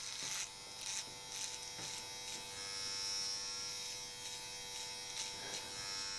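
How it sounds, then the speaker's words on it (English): Electric clipper buzzing steadily while trimming and sculpting a man's beard, with short bursts as the blade moves along the contours of his face, close and continuous. "I'm actually feeling the clipper touch his skin, and I'm going with the grooves of his face."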